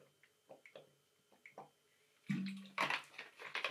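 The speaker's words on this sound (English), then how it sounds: "I have to drink a little bit of water first." Drinking water during a fly-tying session: several small, soft sips and swallows, then louder splashy sloshing as water spills over clothing, fairly close and with no talking.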